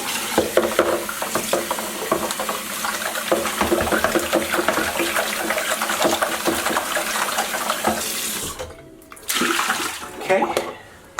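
Scalding hot water gushes and splashes over an aquarium filter being rinsed clean during a 55-gallon tank restoration, a loud continuous spray with clattering, then a brief pause and a short burst more.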